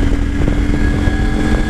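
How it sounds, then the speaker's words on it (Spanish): A CFMoto 800 MT motorcycle pulling hard under open throttle from about 60 km/h, its engine drone steady and loud throughout with a constant whine riding over the low rumble. "Vamos a bajar a 60 km por hora para abrir gas, a ver qué tal recupera esta moto."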